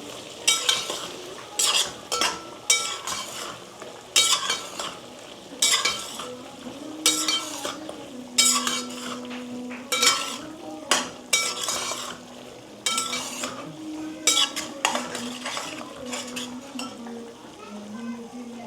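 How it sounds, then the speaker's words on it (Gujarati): A spoon stirs spices into veg soya pulao in a pot, scraping and clinking in a steady repeated rhythm over a faint sizzle, loud and close throughout. "આપણે હવે મિક્સ કરીશું।"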